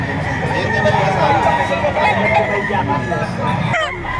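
A white Kelso rooster crows at a busy poultry auction market, its call rising over steady crowd chatter and talk nearby.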